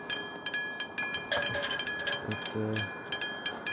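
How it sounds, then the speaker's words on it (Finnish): A train passing near a level crossing, a steady run of rhythmic clicks and clatter close by, with a brief tonal squeal and a short spoken word over it. "nyt se juna tulee kohta."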